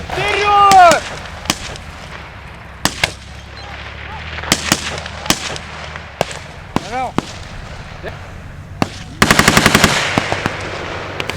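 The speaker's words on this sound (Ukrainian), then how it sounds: "Набої у бійців бойові, тож тренування максимально наближене до умов реального бою." Live-ammunition gunfire rings out during paratrooper assault training, sharp single shots spaced irregularly, then a rapid automatic burst near the end, with brief voices between the reports.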